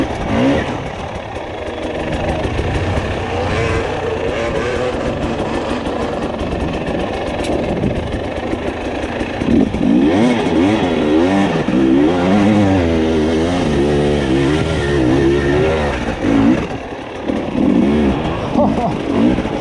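A dirt bike engine on a trail idles and revs, its loud warbling note rising and falling close by, with a rider talking over the motor.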